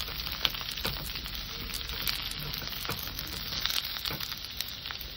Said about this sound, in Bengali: সিম কটা দিয়ে আমি আবার একটু হালকা কষে নেব।